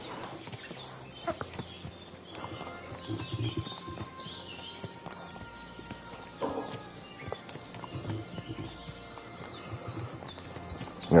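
Horse-drawn carriage in the Kingdom Come Deliverance 2 video game, hooves clip-clopping in an irregular stream with a horse whinnying, moderately close against quiet ambient game sound.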